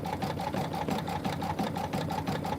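A home sewing machine stitches quilt-block embroidery in a steady, rhythmic chatter of close, loudish needle strokes over a low motor hum, with no talk.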